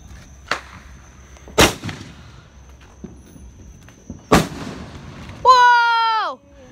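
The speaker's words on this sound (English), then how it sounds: "Today we're filming fireworks." Fourth of July fireworks bursting outdoors: three sharp, loud booms spaced a second or more apart, followed by a long whistling, descending shriek from a rocket, with faint background noise between blasts.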